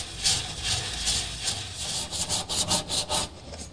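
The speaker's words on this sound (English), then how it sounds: "Some of the rust just needs sanding away." Rhythmic back-and-forth scraping of sandpaper against rusty car metal, close up, in quick steady strokes.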